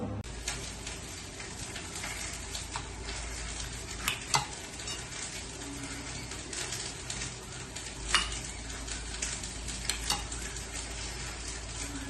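Okra and potatoes sautéing in a pan with onion and tomato, with a soft steady sizzle under repeated stirring scrapes and occasional sharp clinks of a utensil against the pan.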